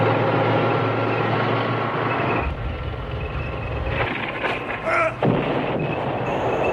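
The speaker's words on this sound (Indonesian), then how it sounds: "ledakan datang secara bertubi-tubi" Wartime bombardment in a World War II film, with a loud, continuous rumble of artillery and engine-like roar and several sharper blasts toward the end.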